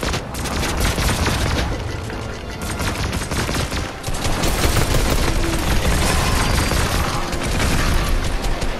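Rapid, dense gunfire from a Fortnite battle royale match, bursts of automatic shots and explosive booms packed loudly together for several seconds, with no talk over them.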